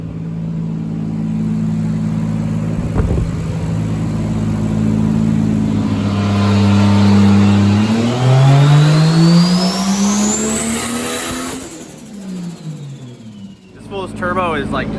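Turbocharged 2JZ-GTE engine swapped into an IROC Camaro, running on E85 on a dyno, revs loudly with a rising pitch, then drops off toward the end amid clatter; voices can be heard faintly underneath.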